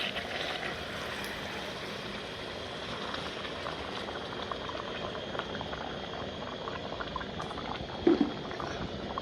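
Hot water goes into a pot of mutton curry with a steady, low, even gurgling and bubbling rush. A faint small knock is heard near the end.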